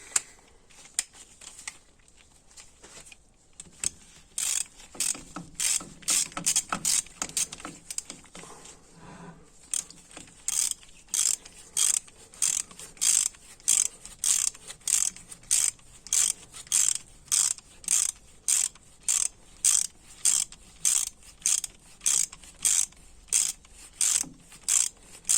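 A hand ratchet works on the transfer case of a Mitsubishi Eclipse 2G GSX with an automatic transmission during a rebuild. It gives loud, close, crisp clicks in rapid, regular bursts that repeat steadily through the clip.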